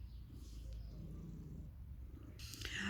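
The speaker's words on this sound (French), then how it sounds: "Vous entendez son ronronnement? C'est comme ça toute la journée avec elle." Nala, a 12-year-old blue-eyed cat, purrs in a soft, continuous low rumble up close, with a brief rustle of handling near the end.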